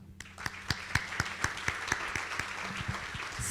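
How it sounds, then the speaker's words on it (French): Applause for the organisers at the opening session of a maritime forum in Bizerte: a sparse, moderate round of separate claps over a low steady hum, faint background voices near the end. "merci d'applaudir les organisateurs, les soutiens que nous avons eus"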